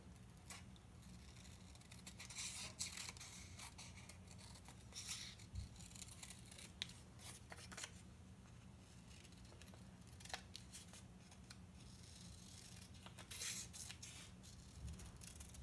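Scissors cut out a moccasin pattern, producing faint, close, repeated snipping and paper-like rasps at an irregular pace over a low steady hum.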